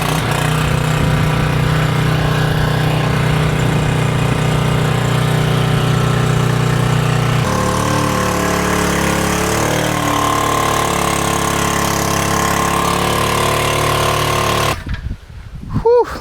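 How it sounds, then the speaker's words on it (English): The small engine on a soft wash system pump runs loud and steady at close range, and its tone shifts partway through as the throttle changes. It cuts out abruptly near the end. "Back to the pump. Turn on."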